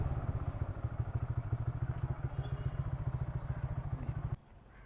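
A CNG-powered motorcycle engine idles close by with a steady, fast low-pitched thumping pulse that cuts off abruptly near the end.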